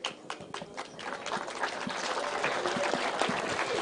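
An audience at a political consultation gathering claps, a dense patter of many hands building steadily and filling the room, with no speech on top.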